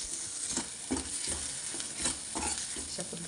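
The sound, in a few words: spices being sautéed in oil for masala methi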